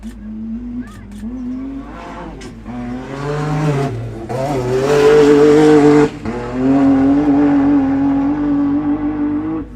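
A race car on an enduro short course at the Waikerie Hotel Riverland Enduro passes close by, its engine climbing through the gears with loud rising revs and a steady, near roar, while a commentator talks over it.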